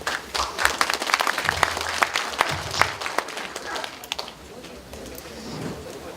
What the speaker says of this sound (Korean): 이항진 시장님을 큰 박수로 맞이해 주시기 바랍니다.